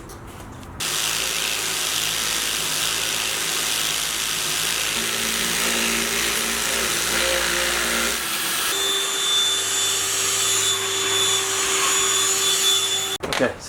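A steady, loud motorized whine runs nearly the whole time, a power drill with a 5/16 bit drilling holes for a solar panel install on a Sprinter van, with a shift in pitch partway through.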